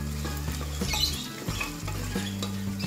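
Chicken sizzles loudly in a pot while being stirred, the frying hiss broken by repeated scraping and stirring strokes, heard up close with no voices.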